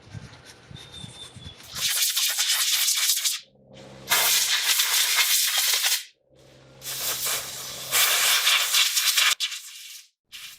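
Compressed air blasting off the door hinges of a 2004 Infiniti G35X during paint prep, in several loud sustained hissing bursts separated by short pauses, with no talking.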